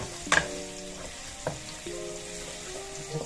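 Garlic frying in a pan for arroz Valenciana makes a steady soft sizzle, with a few clinks and stirring scrapes close by.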